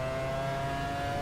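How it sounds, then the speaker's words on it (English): Race car engine in the video game F1 Challenge '99-'02, a steady, loud, high-pitched engine whine holding a constant tone, with no audible gear shift or talk in this short moment. "I would rather hear the engine than my gear shifting."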